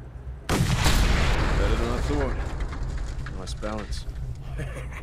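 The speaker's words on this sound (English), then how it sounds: "Time to put the sniper rifle to the test." A sniper rifle in the Mad Max video game fires a heavy, booming shot that cuts in sharply and rolls into a long rumbling echo, with a second fainter report and scattered clatter as the tail fades.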